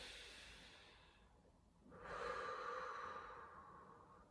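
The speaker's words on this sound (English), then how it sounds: "Try to breathe a little bit deeper than your normal breath." A single deep inhale through the nose during a judo mobility and flexibility stretch: a soft, airy draw that swells and holds for a couple of seconds, close and quiet.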